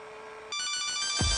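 Kyocera mobile phone playing its ringtone, a bright electronic melodic tone that starts abruptly and rings loud and close for about a second, with no talk.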